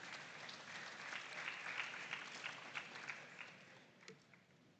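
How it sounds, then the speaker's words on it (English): Audience at a school farm awards grand final applauding a guest invited to the stage, a sustained wash of clapping from a large crowd that slowly thins toward the end. "please, with a round of applause, let's invite Mr. Alistair Jimate to do us the honor"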